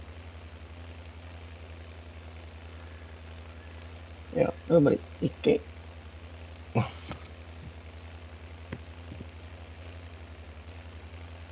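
A tractor engine in the Farming Simulator 22 video game runs as a steady low drone through the whole stretch, under brief conversational voices and a few soft knocks.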